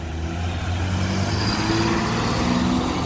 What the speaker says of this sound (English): And a Cummins-powered UPS truck.